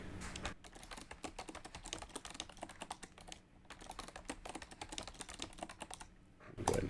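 Rapid keystrokes on a computer keyboard while a password is entered during setup of a UGREEN DXP6800 Pro NAS, close and crisp, a steady run of clicks with a brief pause near the middle.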